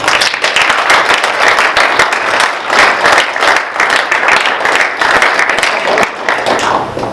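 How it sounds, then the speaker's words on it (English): A seated audience at a solar energy talk gives a round of applause for the speakers, steady dense clapping from many hands, loud and sustained throughout with no pause. "I think we all owe a big round of applause to Lisa,"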